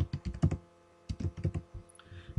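Typing on a laptop keyboard, two quick bursts of soft close clicking keystrokes separated by a short pause, quiet and alone.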